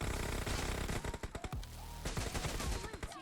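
Dense automatic gunfire rattles in PUBG Mobile team deathmatch, loud, close bursts of rapid shots that overlap with distant shots and cracks, pausing briefly before more staccato volleys.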